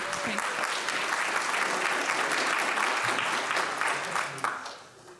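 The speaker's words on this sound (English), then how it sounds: "a big round of applause again for Nigel" A conference audience at a child protection event in Wales gives a steady round of applause, dense and sustained before tapering off at the end.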